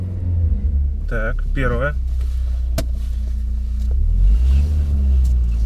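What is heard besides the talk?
exhaust and engine of a VAZ 2018 car pulling away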